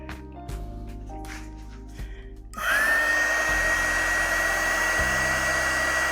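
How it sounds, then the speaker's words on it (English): A heat gun switches on with a sudden rise into a steady close airy roar, blowing on heat shrink over a spade connector, while a low buzzing hum steps beneath it. "And we'll take our heat gun."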